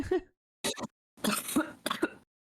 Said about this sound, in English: you're gonna hear me cough until like the mouthwash is out of my throat